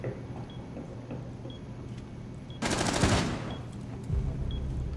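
Burst of rapid gunfire in Rainbow Six Siege, a dense automatic volley of about a second, loud against a steady background hum of game ambience, with no talk during it.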